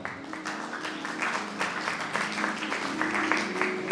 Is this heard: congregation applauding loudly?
yes